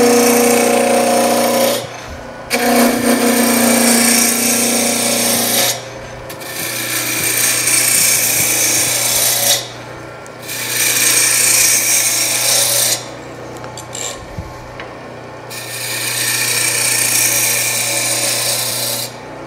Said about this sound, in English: So I'll start with a roughing gouge.